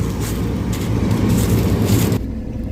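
A combine harvester rolling through a sunflower field at harvest, a loud, steady low engine drone that drops slightly near the end.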